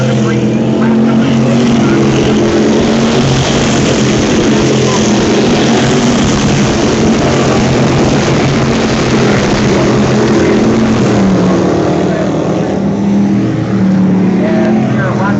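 Dirt track race cars roar around an oval at Geneva, NY, a dense continuous engine drone that holds steady and loud throughout, with a race announcer's voice woven into the noise.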